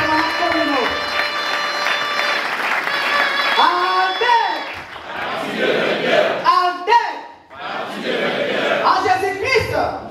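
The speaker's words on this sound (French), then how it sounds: "On acclame ces camarades secrétaires permanents communaux." A large crowd at a communal gathering cheers and applauds in acclaim of the permanent communal secretaries, loud and sustained, with shouting voices and a tonal chant-like layer running through the noise.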